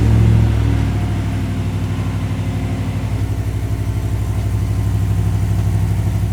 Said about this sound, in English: it's time to go out for a rip and see how the new exhaust sounds